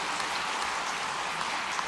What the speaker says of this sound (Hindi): सबके लिए जोरदार ताली बजाओ